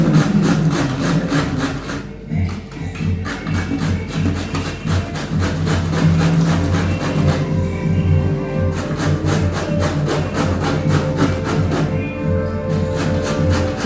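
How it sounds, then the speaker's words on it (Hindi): Pumpkin being grated by hand for pakoras in a home kitchen, a steady rasping scrape repeated in quick back-and-forth strokes, close and continuous with brief pauses, no talking. "कद्दू को घिस लेती हूँ।"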